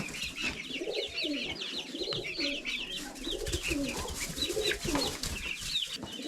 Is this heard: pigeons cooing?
yes